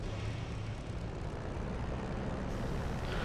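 A propeller aircraft engine drones steadily while the plane taxis in a flight simulator game, a constant loud hum with no talking.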